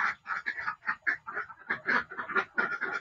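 Ducks in a pen quack in a rapid, overlapping chorus, many nasal calls tumbling one after another at close range.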